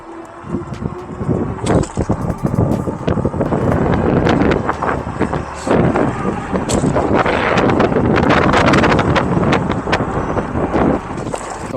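Wind buffets the microphone steadily while riding an ASKMY electric bike capable of 35 mph, a loud, continuous roar with gusty swells and no talking.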